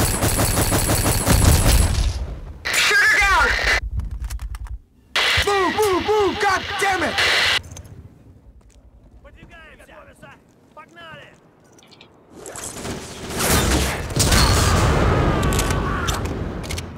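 A gun fires in the shooter game Black on the Graznei Bridge level, loud broadband volleys at the start and end, with shouting voices and game noise in the quieter stretch between.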